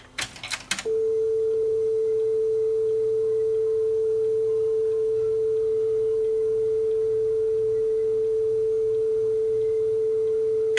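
A Sony TCRX420 cassette deck plays a tape in reverse: a brief mechanical clunk and rattle, then a loud, steady, pure single tone that holds unbroken to the end, with no voices.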